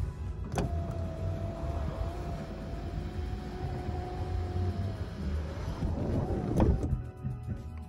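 A car sunroof motor running on its own during a calibration reset, a steady electric whine lasting about five seconds and bracketed by sharp clicks or thuds as it starts and stops, heard inside the car.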